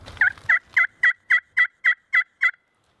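A high-pitched friction turkey call yelps out nine sharp, evenly spaced notes in a steady rhythm, clear and close, after a brief scratchy start.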